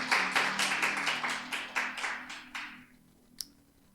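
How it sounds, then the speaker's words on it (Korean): Rhythmic congregation applause at a church service, a steady beat of about a dozen claps that fade out, followed by one sharp tap amid quiet background hum. "우리 하나님께 영광의 박수 올려드리겠습니다."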